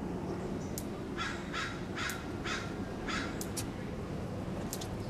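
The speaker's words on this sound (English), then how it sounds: "The crows are making so much noise." Several crows caw at the San Francisco Zoo in a run of harsh, evenly spaced calls, a few more trailing at the end, over a steady background hum.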